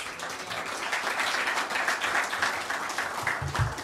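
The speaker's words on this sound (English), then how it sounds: "Come on, family. Keep clapping, keep clapping." A mosque congregation in New Orleans claps together, a steady wash of many hands close by with no pause, and a few low thumps near the end.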